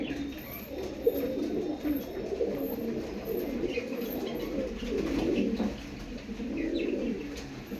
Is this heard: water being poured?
no